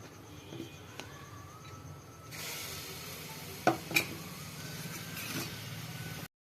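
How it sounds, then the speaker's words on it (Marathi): Crushed green chilli thecha frying in hot oil in a kadhai gives a quiet hiss that swells into a steady sizzle midway, punctuated by two sharp metal clinks of a utensil against the pan. "त्याच्यानंतर हिरव्या मिरच्याचा ठेचा टाकू। तेल गरम झाल्याच्या नंतर"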